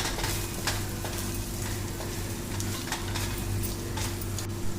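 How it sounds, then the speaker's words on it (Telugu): Chili powder masala fries over a medium flame in a pan for a chicken curry, with a dense continuous sizzle and light repeated clicks of a spatula stirring close by. "కారం అంతా మిక్స్ అయ్యేంత వరకు బాగా మీడియం ఫ్లేమ్లోనే అడుగు పట్టకుండా బాగా వేపుకోవాలి"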